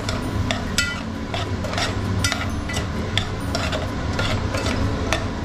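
Chopped onions going into hot oil in a pan for an Agri-Koli chicken curry, with steady scraping and clinking of a spoon stirring against the pan over a continuous sizzle, loud and close, with no talking.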